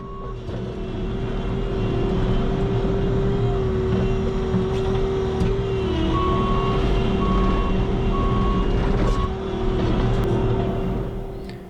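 A Bobcat skid steer plowing gravel in a parking lot during spring cleanup, its steady tonal backup alarm beeping continuously over the loud rumbling engine, with a second fainter intermittent beep joining partway through.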